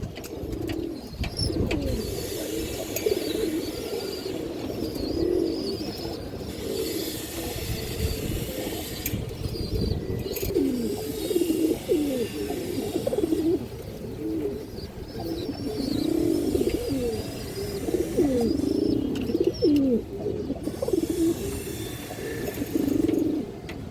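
A pair of purebred Sobji pigeons coo close by in repeated, rolling bursts that continue throughout.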